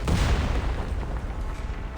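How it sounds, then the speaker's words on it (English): Explosions and artillery fire in the video game Reverse: 1999 open with a heavy, loud boom that rolls into a dense, thundering low rumble. "There's a sudden ear-piercing pop, followed by thunder explosions and rocks spat across the terrain."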